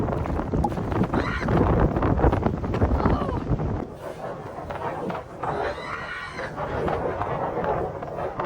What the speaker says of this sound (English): The geese are all on the water.